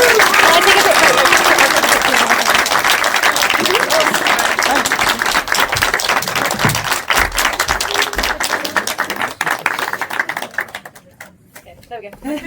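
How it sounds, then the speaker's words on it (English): One more round of applause from the audience at a short film premiere Q&A at Picturehouse Finsbury Park: loud, sustained crowd clapping that thins out into scattered claps and then falls away near the end. "If we could have one more round of applause"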